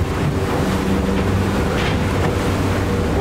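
Fishing boat trolling at 3,000 RPM across open water while tracking bluefin tuna, steady engine drone mixed with waves, wind buffeting and splashing, continuous and loud with no talking.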